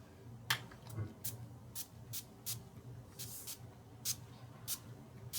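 Pump-style setting spray from NYX with a dewy finish, misted in a series of short, crisp hissing bursts at fairly even intervals, close to the microphone over a low background hum.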